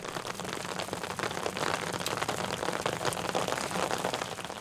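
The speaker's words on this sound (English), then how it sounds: "To test it, they simulate both rain and hail." Artificial rain mixed with hail pelting a test surface at a research centre in Graz, a dense, steady hiss of drops and pellets that holds loud and even throughout with no voices.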